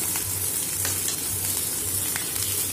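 Onion and cabbage fry in a pan with a steady, close sizzle and crackle, with soft stirring scrapes now and then.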